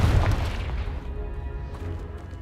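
Confringo spell blast in the Hogwarts Legacy video game, a loud booming explosion at the start that rolls off into a fading rumble over about two seconds.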